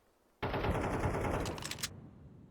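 A fast burst of SMG fire from a Counter-Strike match, a dense continuous rattle lasting about a second and a half that cuts in abruptly and then trails off, loud and with no talking over it.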